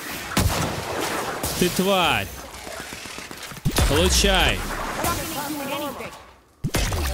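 The support gun in The Outer Worlds fires a few sharp, loud shots with booming tails, spaced seconds apart. Someone talks between the shots.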